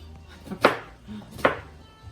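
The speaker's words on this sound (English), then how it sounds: "And then I'm gonna chop into this onion." Knife chopping through an onion on a cutting board, two distinct close, crisp chops about a second apart with quiet between them.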